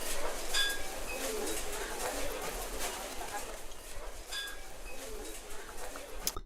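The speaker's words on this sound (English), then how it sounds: "That sounds a little bit like the old bird noise you used to get on the app." Bird calls from a Loopcloud foley library sample sound in short bright chirps and coos over a steady ambient wash, with people talking throughout.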